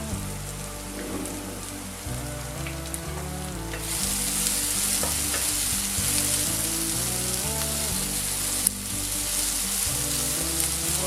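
Onion frying in a pan, a dense, steady sizzle and crackle that grows louder midway, with background music underneath.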